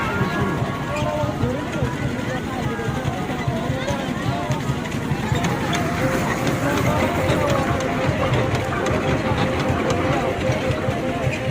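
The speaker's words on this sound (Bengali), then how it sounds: "এদিকে হচ্ছে ট্রেন চলতেছে বাচ্চাদের ট্রেন না ট্রেনের মতো" Continuous mechanical rumble of a small ride-on train running nearby, under a busy wash of crowd chatter and fairground noise.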